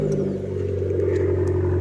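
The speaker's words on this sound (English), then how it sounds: "we've got the lovely cold start there" An Abarth car engine idles just after a cold start, a close, steady, loud rumble with a low droning hum and no voices.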